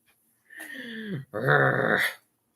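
A dog growls twice in close succession, each growl a drawn-out rumbling vocalization, near and fairly loud with silence around it.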